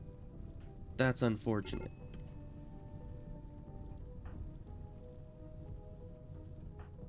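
Steady rainfall in the colony-building video game Rimworld: a soft, even hiss runs through the whole stretch, with a person talking over it near the start.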